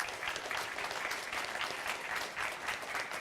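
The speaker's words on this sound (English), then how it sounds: "Everyone, please give a huge round of applause for Aureylian" A panel audience at GameVidExpo 2014 gives Aureylian a steady round of applause, fairly quiet and even throughout, with no one speaking over it.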